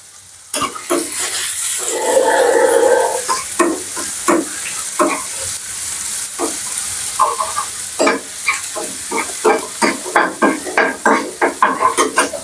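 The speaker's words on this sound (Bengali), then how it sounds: "পেঁয়াজ কুচিটা একটু ব্রাউন কালার করে ভেজে দিব" Chopped onions frying in a pan until brown, sizzling steadily up close while a utensil stirs and scrapes against the pan in repeated clacks.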